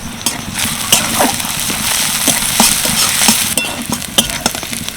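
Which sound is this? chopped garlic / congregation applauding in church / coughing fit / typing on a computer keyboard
chopped garlic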